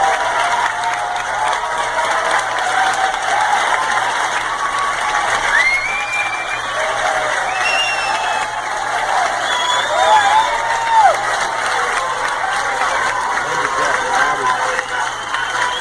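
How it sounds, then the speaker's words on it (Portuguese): A crowd at a political gathering applauds and cheers, steady clapping mixed with whoops and scattered shouts, with a voice speaking over it at times. "E engraçado é um monte de pateta aplaudindo."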